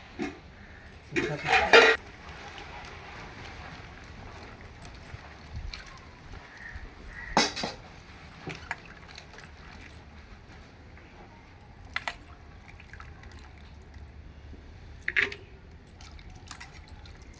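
Chopped bottle gourd is washed in water before going into a pressure cooker: quiet sporadic splashes, drips and a few clinks of a vessel, faint and close with long hushed gaps between.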